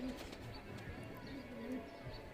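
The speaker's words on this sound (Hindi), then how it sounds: "ये भैया के पास का गिरेबाज कबूतर है।" Soft cooing of a seven-to-eight-year-old girebaaz tumbler pigeon, faint repeated low coos at close range with background rustle.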